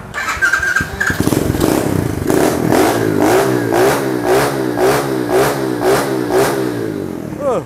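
A Mini Trail HSX 110 manual-clutch motorbike engine starts up and revs hard in a steady series of rising throttle blips, close and loud, with no talking over it.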